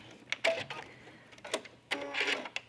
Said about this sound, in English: make sure that you backstitch because you don't want this to come off later